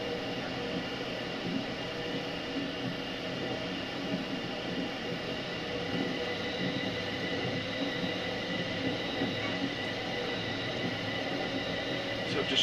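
A train trundles along steadily under an Automatic Warning System ramp, heard from inside the driver's cab as a constant low rumble and hiss with a few faint clicks, no talking.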